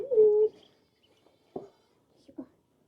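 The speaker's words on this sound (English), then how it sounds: "Just love hearing that little duck chirp." Baby ducklings give soft, high cheeping calls: one longer peep at the start, then a few short, faint chirps spaced out over a few seconds in a quiet setting.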